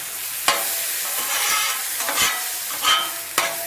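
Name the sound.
diced potato hashbrowns frying on a Blackstone griddle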